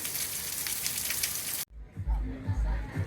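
Steady rain patters loudly on a car for over a second before cutting off abruptly, followed by muffled low thumps and faint indistinct sounds.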